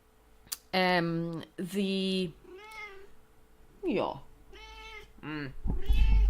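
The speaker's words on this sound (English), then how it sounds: "there's a cat" A cat meows several times in a row, loud and close, with short pauses between the drawn-out cries.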